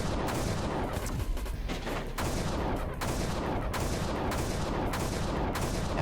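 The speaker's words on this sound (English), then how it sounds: "I thought they were shooting at me." Heavy, dense gunfire from the video game KUR, continuous loud volleys with rolling booms and repeated sharp bursts that keep going throughout, fairly close and unrelenting.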